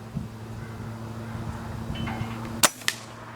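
A single sharp crack from a Benjamin Trail NP2 nitro piston air rifle fired outdoors in wind, a short second snap following closely, over a low steady hum and breeze noise.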